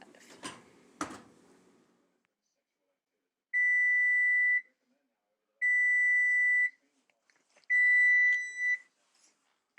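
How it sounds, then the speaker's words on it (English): A kitchen timer beeps in three long, steady electronic tones spaced evenly apart, after a couple of soft knocks, marking the end of a 45-minute bake of a sourdough loaf at 375 degrees. "Timer's off."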